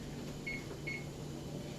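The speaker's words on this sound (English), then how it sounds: "The timer was about ready to go off." A kitchen timer gives two short, high beeps about half a second apart over a steady appliance hum in the kitchen.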